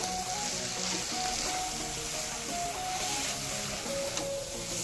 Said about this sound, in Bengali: প্রথমে একটু নাড়াচাড়া করে মিক্স করে নিচ্ছি